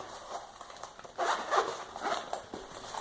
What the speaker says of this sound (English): and then of course, it zips right back up